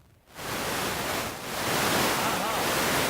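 Ocean waves on the shore: a loud, continuous rush of surf that swells after a brief quiet start and holds steady, with no voices.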